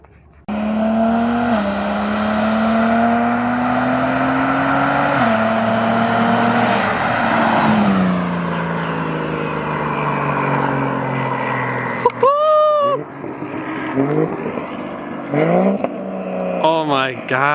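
A single-turbo BMW X3 M with an aftermarket exhaust revs loudly and close, then drops through downshifts with sharp pops and crackles and squealing, sweeping tones in the second half.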